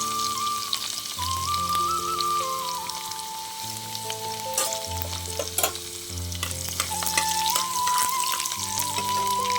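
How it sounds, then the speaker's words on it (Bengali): Chopped garlic, ten cloves, fries in hot oil with a dense, crackling sizzle like rain on a surface, close and loud, over a steady background of faint music. "রসুনটাকে আমি কুচি করে তেলের মধ্যে দিয়ে দিলাম"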